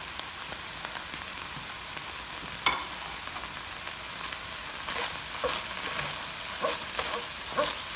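Ginger, garlic and spices fry steadily in a pan, a continuous close sizzle with a few sharper crackles and stirring scrapes, no voices present.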